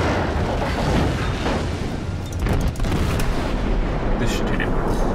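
Warship guns booming in World of Warships, several heavy salvos and rumbling blasts across a few seconds amid loud battle noise.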